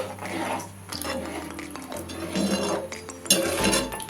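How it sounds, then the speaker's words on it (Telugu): Water poured into a pan of Andhra-style tamarind fish curry, a steady pouring wash with light clinks of cookware, fairly close and continuous for a few seconds. "ఇప్పుడు తగినంత వాటర్ వేసి మరిగించుకుందామండి పులుసుని"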